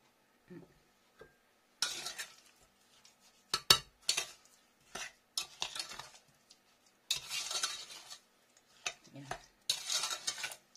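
A spoon stirs blackberry jam with a pinch of salt in a pot, making quiet, intermittent scraping and swishing strokes separated by short silences.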